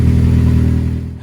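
Honda Civic EP3 Type R engine fitted with a brand-new 3-inch oval cat-back exhaust, giving a steady, loud, close low drone that eases off slightly toward the end.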